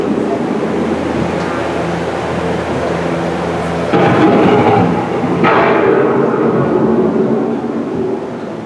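A simulated thunderstorm rumbles through the EPCOT Living With The Land boat ride, a loud continuous roar of wind and rain with a heavy thunder crash partway through.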